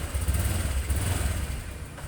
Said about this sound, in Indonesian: Motornya halus sih polok.